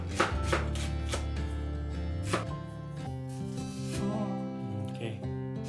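Onion chopped on a board for gyudon, a series of quick knife strikes heard near, partly under background music and a voice.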